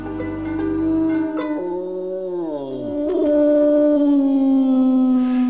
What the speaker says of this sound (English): The howl of a gray wolf can make chills run up and down the spine